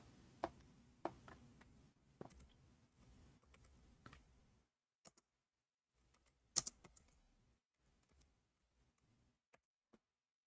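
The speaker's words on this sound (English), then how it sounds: "I will type in Arabic." Quick bursts of key clicks from typing Arabic on a computer keyboard, close and fairly soft, with short pauses and scattered single taps toward the end.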